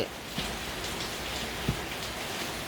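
Steady rain falls as a soft, even hiss, with a couple of faint individual drop taps standing out against the constant wash.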